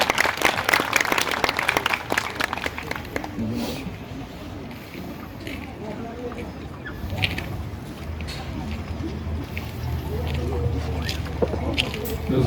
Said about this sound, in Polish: Bardzo proszę, przywitajmy ich gorąco oklaskami.